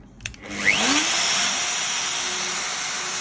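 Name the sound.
Makita 3612C router running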